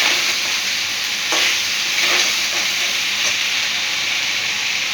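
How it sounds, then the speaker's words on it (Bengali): Pieces of chicken fry in oil for chilli chicken, giving a loud, unbroken hissing sizzle close up with a few faint scrapes or stirs mixed in. "দেখো চিকেনটা মোটামুটি ভাজা হয়ে গেছে,"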